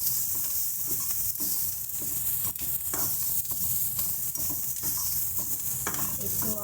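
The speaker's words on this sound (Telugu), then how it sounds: "పోపు వేసుకొని ఉల్లిపాయలు బాగా వేగనివ్వాలి" Onions frying in tempering oil in a pan, a steady dense sizzle with repeated stirring scrapes throughout, close and fairly loud with no talk.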